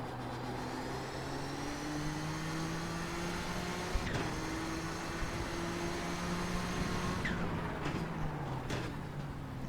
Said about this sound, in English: just to blip the throttle a bit, get the boost pressure up, and then lay on it, let that pressure go all the way up to 50 bar